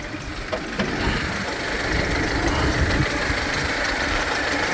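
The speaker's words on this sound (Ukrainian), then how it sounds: "ви послухайте, як працює двигун." A Mercedes Sprinter van engine idles steadily nearby, a continuous low rumble with a faint knocking texture and no voices.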